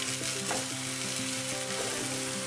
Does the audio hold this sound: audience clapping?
no